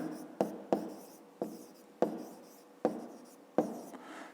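Pen writing by hand on paper while working a grade-5 math exercise, a close series of about six distinct scratchy strokes, each a sharp onset trailing off, with short pauses between and no talk.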